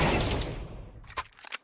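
A loud burst of gunfire fades out, then two or three short, sharper shots follow a moment later.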